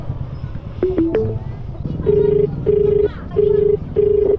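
A delivery rider's phone call rings out as a repeated ringback tone in four evenly spaced bursts, preceded by a few short beeps, with road and engine noise underneath and brief talk at the start.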